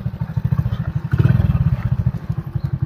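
A motorcycle engine thumps at a fast, even idle-to-low-rev pulse close by, riding alongside runners at a police recruitment 1600-metre run, steady throughout with a slight surge midway.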